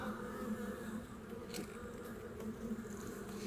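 Honey bees buzz steadily and up close during an inspection of a split beehive, a dense continuous drone with a low hum and no voices.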